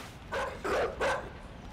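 A dog barking in the video game Inside, three loud harsh barks in quick succession, close and alone over a low background rumble.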